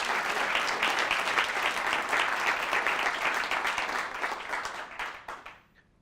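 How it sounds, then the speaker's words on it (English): A room full of attendees at a business mastermind event breaks into loud, sustained applause, many hands clapping in a dense wash that holds steady and then tapers off to silence over the final second. "So let's give him a round of applause."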